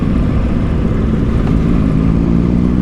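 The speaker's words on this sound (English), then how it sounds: "Wiggy, your bike sounds sweet as a nut." A Triumph Tiger motorcycle engine runs loud and close, its throaty rumble holding steady with slight revving swells.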